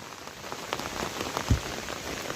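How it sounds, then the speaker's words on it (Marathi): Heavy monsoon rain pours down in a steady, dense hiss with no break, close and fairly loud, during the Ganpati festival season near Kolhapur. "पाऊस जाम जाम खतरनाक पाऊस हा"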